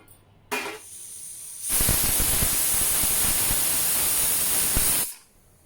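A pressure cooker holding dried peas lets out a brief burst, then a loud, steady high-pitched whistle with a rushing hiss of steam for several seconds before it cuts off sharply.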